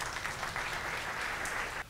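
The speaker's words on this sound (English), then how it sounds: "So give yourselves a round of applause." An audience at a university State of the University address gives a round of applause, a dense burst of clapping that holds steady for under two seconds and then cuts off abruptly.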